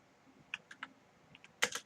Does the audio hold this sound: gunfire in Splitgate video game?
no